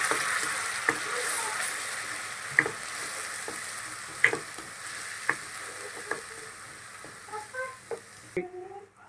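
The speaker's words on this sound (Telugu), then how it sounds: "ఇప్పుడు ఆనియన్ పేస్ట్ వేసుకోవాలి. ఇది గోల్డెన్ కలర్ వచ్చేంత వరకు ఫ్రై చేసుకోవాలి." Onion paste fries in a pan until golden, giving a steady sizzle. Sharp scrapes and stirring clicks from a utensil break in every second or so, and several quick clinks come near the end.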